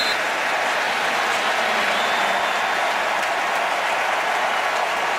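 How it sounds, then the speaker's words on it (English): Football stadium crowd in Indianapolis at an NFL game, Seahawks at Colts in 2013, applauding in a dense, steady wash of clapping that carries loud and unbroken throughout. "And the crowd likes it here in Indianapolis. Just looking for something to applaud."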